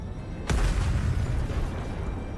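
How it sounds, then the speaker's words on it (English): Goddess of Victory: Nikke game explosion: a sudden loud boom strikes near the start, then gives way to a long, heavy rumbling roar that fills the rest of the moment. "More explosions."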